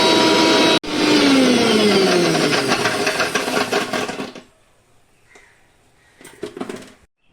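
A mixer grinder blends cashews and melon seeds with a little milk into a paste, its loud, steady motor whir running for a few seconds before cutting off, followed by faint clinks.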